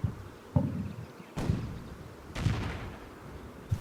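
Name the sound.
infantry gun firing a shell, video game Combat Mission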